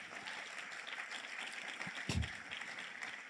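Brief applause from an audience at a university special lecture, moderate clapping under background noise with a short thump partway through.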